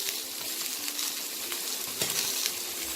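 Chopped carrots and potatoes sizzle in hot oil for a Bengali-style chicken stew, a close, steady crackle with occasional stirring clinks.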